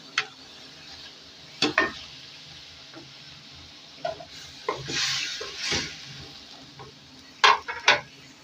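Minced meat (keema) frying with onions in a pan, giving a faint sizzle with sporadic scraping stir strokes and utensil clinks close by, and no talking.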